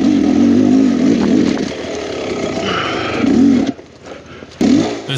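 A Beta Xtrainer 300 two-stroke dirt bike lugs uphill on trails, its engine a loud, close, warbling drone that eases off and briefly cuts out before revving again.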